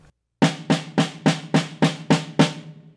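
Eight evenly spaced drum strokes in straight eighth notes, each a punchy resonant hit with a short decay, played alone and close at a steady tempo.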